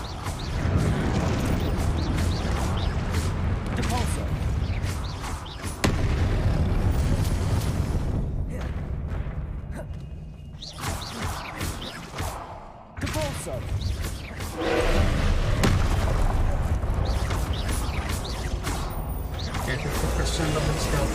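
Spell explosions in a video game: dense, loud booming bursts and thuds with mechanical rattling, sustained across most of the stretch and briefly dropping away in a couple of quieter gaps.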